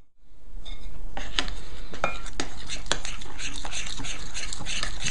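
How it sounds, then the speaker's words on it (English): A thick breakfast mixture stirred in a bowl until the lumps go, with a spoon scraping and clinking against the sides in a steady irregular rhythm, close and clear. "you just want to keep stirring it until all of the lumps go"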